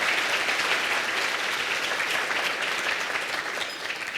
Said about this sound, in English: Let's have another round of applause for her.